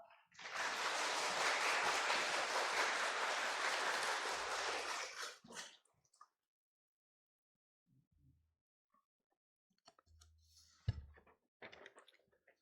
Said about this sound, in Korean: 목사님 나오실 때 환영의 의미로 힘찬 박수로 우리 목사님 환영하시도록 하겠습니다